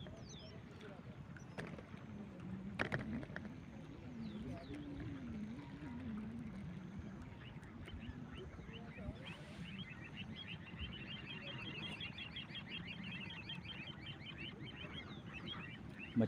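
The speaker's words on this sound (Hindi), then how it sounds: "चिड़ियों की चहकारी हो रही है" Small birds chirp faintly in rapid bursts over a steady outdoor wash of waves and wind near a dam, with some low rumbling nearby.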